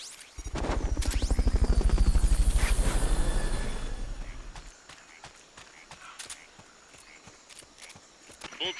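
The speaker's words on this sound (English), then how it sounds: "Fulton recovery subject confirmed onboard helicopter." In the video game Metal Gear Solid: Peace Walker, a Fulton recovery helicopter's rotor chops loudly for a few seconds, then fades, leaving sparse footstep-like thuds and clicks.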